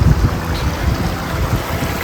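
Snowmelt creek rushing downhill toward Lake Tahoe along the Tahoe Rim Trail, a steady, close, broadband water roar with no voices over it.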